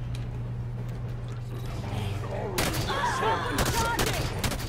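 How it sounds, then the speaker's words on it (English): Hydra launcher firing in the Halo 5: Guardians video game, a quick burst of sharp mechanical shots and clatter in the second half after a low steady hum, fairly quiet overall. "Just me with my Hydra launcher."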